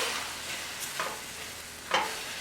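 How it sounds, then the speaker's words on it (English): A pan deglazed with sake for vegan mapo tofu gives a steady, hissing sizzle close by, with a couple of brief scraping stirs breaking through the constant frying noise. "we're going to deglaze the pan with a little bit of sake"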